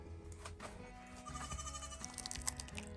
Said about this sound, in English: I'll have to go and sit with the goat. She won't be quiet.